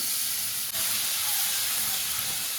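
Garlic sizzling in hot oil with whole cumin, cinnamon, cardamom and cloves, a steady loud hiss and crackle of frying that holds evenly throughout with no talk.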